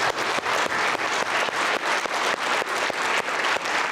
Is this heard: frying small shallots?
no